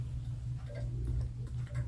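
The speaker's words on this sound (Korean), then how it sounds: "뭐 시계 바늘 소리 왜 이렇게 무섭지?" Clock hands tick steadily in the Roblox horror game Doors, hard mode, an even low rhythmic ticking heard alone and fairly loud for two seconds.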